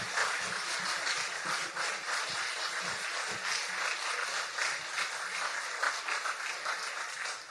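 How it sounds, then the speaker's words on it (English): An audience at a literary reading event gives a sustained round of applause, a dense, even wash of many hands clapping continuously throughout, heard from within the room. "Can we have another big round of applause for Andrew and Kenny?"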